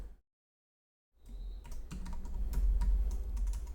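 Fingers type on a computer keyboard, a quick run of close, crisp key clicks after a brief silence, with a low hum underneath.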